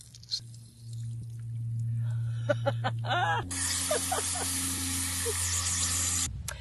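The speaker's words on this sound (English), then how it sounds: "So now I'm just going to unscrew this to let any air out of the system." Air hisses out of an unscrewed fitting on a garden irrigation system, a low tone giving way to a strong broadband hiss with sputtering bursts, close and loud, and a voice is briefly heard beforehand.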